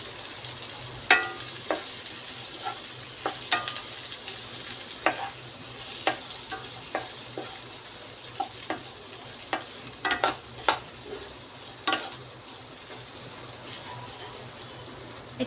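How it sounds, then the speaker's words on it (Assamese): Okra and potatoes frying in a pan for bhindi bhaji, with a steady soft sizzle and repeated short scraping clicks as a spoon stirs them, fairly close and moderately quiet. "এতিয়া মই খুব ভালদৰে লৰাই ল'ম।"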